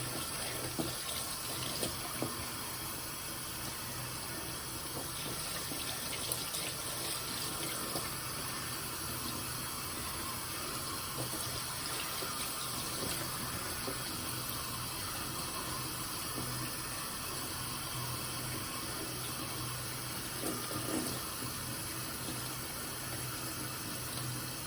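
Tap water runs steadily into a sink while tea-dyed fabric is rinsed under it to cool down, a continuous close splashing rush with no talk.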